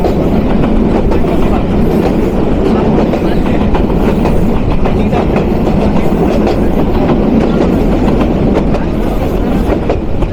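The Lalmonirhat commuter local train runs fast on the rails in northern Bangladesh, with a loud, dense, continuous rumble and rhythmic clickety-clack of wheels heard from inside the carriage, with no letup.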